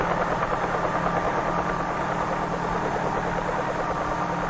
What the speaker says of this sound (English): When the blades move fast enough, they provide the lift necessary to raise the helicopter off the ground and permit it to hover.